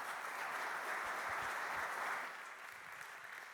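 An audience at an awards ceremony applauding, a dense, even wash of many hands clapping that carries on steadily and eases slightly in volume toward the end.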